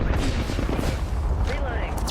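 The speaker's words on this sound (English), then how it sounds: "Firing." Rapid gunfire in the battle royale shooter Apex Legends, a dense, loud barrage of booming shots packed tightly together and close, with game voice lines heard over it.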